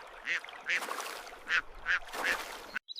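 Ducks quacking on water on a farm, five separate nasal calls spaced through a few seconds, moderately loud against a soft background, with no other sound competing.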